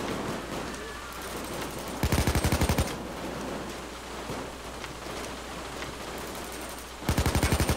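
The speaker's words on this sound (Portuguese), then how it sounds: "Parece que só eu que tô atirando." Bursts of automatic gunfire in the video game Payday 2, two loud rapid volleys of about a second each standing out over a steady noisy background of game ambience.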